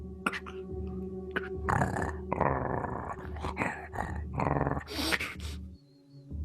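A snarling werewolf growl sound effect plays during a French-language Dungeons & Dragons 5e tabletop session, coming as several rough, guttural bursts of uneven length that fill most of the clip and stay close and fairly loud.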